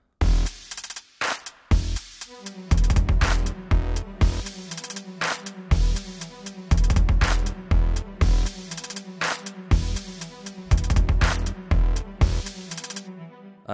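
Second verse of a song, with a changed violin part riding over punchy drums and deep bass in a dense, continuous mix, no talking.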